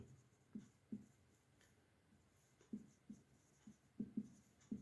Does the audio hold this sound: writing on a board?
yes